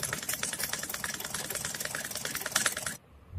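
A sewing machine rapidly stitches cloth, making a fast, even mechanical rattle up close that stops abruptly near the end.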